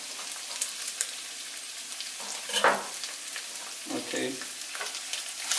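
Garlic and bell pepper fry in a pan for a Mexican noodle bake, giving a steady crackling sizzle with a couple of louder stirring scrapes midway; a single brief word is spoken.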